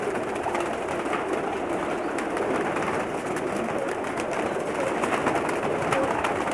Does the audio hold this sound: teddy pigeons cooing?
yes